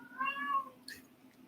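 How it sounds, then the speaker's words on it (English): A house cat meows once, close and clear, its call rising then falling, followed by a faint short trailing sound in an otherwise quiet room. "my cat Melchior calling to his people"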